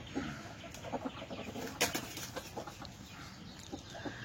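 A rooster clucks softly nearby in a series of short, low calls spread irregularly, with a brief rustle of wings partway through and no talking over it.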